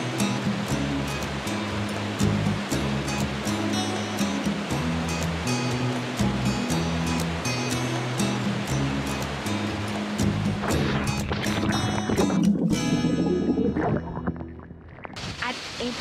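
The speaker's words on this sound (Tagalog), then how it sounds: "makikita mo na ang Malatanog Falls" Malatanog Falls in Negros gives a steady, full rush of falling water that goes on throughout, with a person talking and music playing over it.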